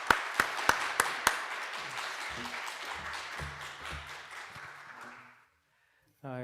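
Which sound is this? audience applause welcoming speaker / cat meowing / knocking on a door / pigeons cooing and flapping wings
audience applause welcoming speaker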